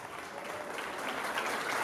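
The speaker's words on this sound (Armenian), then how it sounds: "Ծափերով։" A concert audience applauds in a steady, dense wash of clapping that holds at an even level and swells slightly toward the end, with no voices on top.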